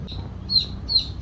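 Young chicks peep in short high chirps, two or three bright calls over a low background rumble in a backyard setting, fairly close and moderately loud.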